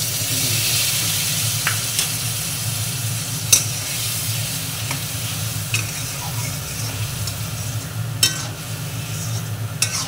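A spice paste of ginger, cumin, turmeric, chili and coriander powder sizzles loudly and steadily in a pan up close, with occasional stirring clinks and scrapes and no voices.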